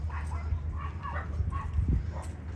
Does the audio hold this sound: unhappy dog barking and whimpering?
yes